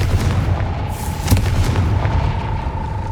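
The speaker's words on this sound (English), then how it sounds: "Confringo!" A Confringo fire spell blasting in Hogwarts Legacy, heard as a dense, rumbling explosive burst with a sharp crack near the middle, sustained and loud over a low booming game soundscape, with no talking.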